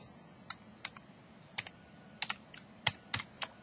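Typing on a computer keyboard, about a dozen sharp separate keystrokes in an irregular rhythm, close and clear over a low background hum, with no voices.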